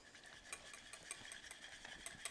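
Butter is whisked into hot melted sugar for salted caramel, giving a quiet run of quick scraping strokes of a whisk against a pan, close and faint.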